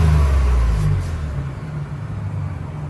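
Ford Raptor engine revving once with faint turbo whine, loud low rumble swelling in the first second then settling to a steady idle.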